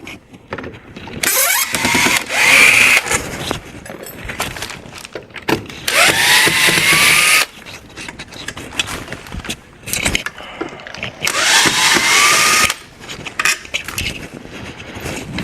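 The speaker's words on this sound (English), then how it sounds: "Okay, we removed the screws." A power drill runs in three long bursts, backing out the corner screws of a window frame, with quieter handling noise between the runs.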